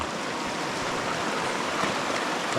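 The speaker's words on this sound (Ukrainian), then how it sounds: "Підійшли до річки." Steady broadband rushing of a flowing mountain river, continuous and fairly close, with no voices.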